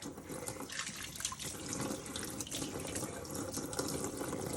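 Tap water runs steadily into a kitchen sink while dishes are rinsed, a continuous broadband splashing hiss at close range with no one speaking.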